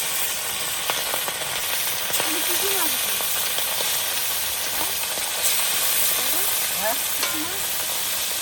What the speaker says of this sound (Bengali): এখন মাছ ভাজা হবে